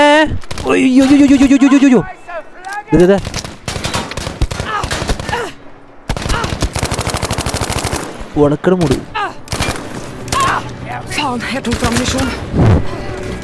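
Bursts of Battlefield V gunfire crack repeatedly, rapid automatic volleys mixed with single shots, loud and close, with talking and game sounds around them.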